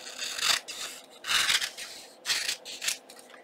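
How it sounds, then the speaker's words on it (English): Scissors cut through a paper journal topper made from book pages, with four or five short, crisp snipping strokes at an uneven rhythm, close and fairly quiet, and no voices. "I'm going to simply cut it with my scissors."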